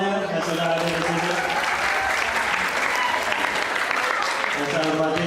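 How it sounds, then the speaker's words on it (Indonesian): Sustained applause from a school audience at a stand-up comedy show, dense steady clapping filling several seconds, with a voice speaking over it near the start and end. "Tepuk tangan untuk kita semuanya yang sudah ada di sini."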